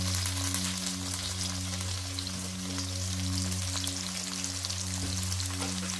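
Onions, green chilies and curry leaves fry in oil left over from frying cauliflower for Gobi 65, giving a steady, close sizzle with a low hum underneath. No one speaks.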